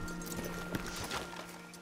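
Horses moving in the Red Dead Online video game, with soft clip-clop hoofbeats under a continuous tonal hum and faint background texture, with a few louder hoof thuds standing out.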